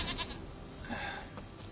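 Goat bleating in The Witcher 3 game, a few short nasal bleats over steady ambient background, moderately quiet, no talk.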